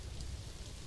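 Steady, dense rain sound effect from the Planet Zoo management game, a continuous hiss of falling rain with no voices over it.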